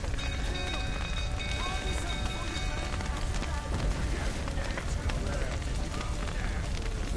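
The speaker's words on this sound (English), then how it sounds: "Looks like rain." Rain hisses densely and steadily across the whole scene in The Witcher 3, a constant wash under intermittent speech, with clattering hoof-like beats mixed in.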